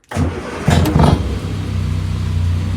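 A Morris Minor car engine, after 12 months in storage, cranks and catches, revs briefly, then settles into a steady rumbling idle close by.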